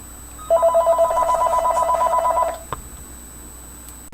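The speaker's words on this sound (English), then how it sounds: "interrupted by a phone call." A telephone rings with an incoming call, one sustained electronic trilling burst of about two seconds that pulses rapidly, then stops with a click, followed by quiet room tone.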